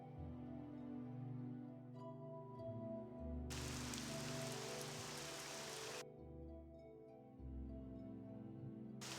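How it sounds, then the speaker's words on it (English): Steady rain pattering on surfaces in the video game Morrowind, a continuous soft hiss that grows briefly louder in the middle, heard alone without talking. "I can see the rain hitting those books."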